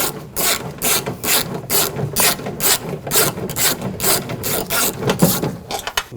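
Ratchet wrench with a 10mm socket loosening bolts on a 2014-2020 Nissan front window regulator, giving a steady run of quick, close clicking bursts in repeated strokes with no talk.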